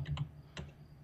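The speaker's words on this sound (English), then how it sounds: "You can hear him typing." Someone typing on a computer keyboard in a radio studio, a few quick clustered key clicks followed by a single tap, faint and a little distant with no talk over it.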